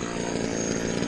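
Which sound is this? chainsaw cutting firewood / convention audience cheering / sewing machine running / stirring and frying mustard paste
chainsaw cutting firewood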